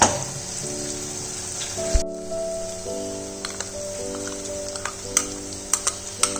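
Roasted, mashed eggplant goes into masala frying in oil for beguner bharta, raising a continuous sizzle with occasional ticks and spatters, heard beneath steady background music.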